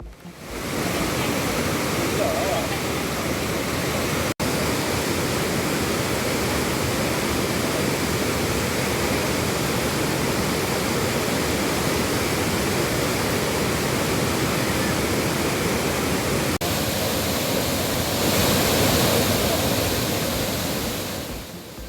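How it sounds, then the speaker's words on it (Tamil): Monsoon-swollen waterfalls in flood after heavy southwest monsoon rain, a loud, steady roar of rushing water filling the whole clip without pause, close and constant with no voices over it. "தென்மேற்கு பருவமழை தீவிரமடைந்துள்ள நிலையில் முக்கிய அருவிகள் மற்றும் நீர்பிடிப்பு பகுதிகளில் வெள்ளப்பெருக்கு."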